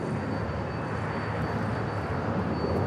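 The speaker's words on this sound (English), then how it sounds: "the JetBlue flight heading to Boston, now rolling" A JetBlue jet bound for Boston rolls for takeoff at LAX, a broad steady engine roar heard from a distance, holding even throughout with a faint high whine on top and no voices.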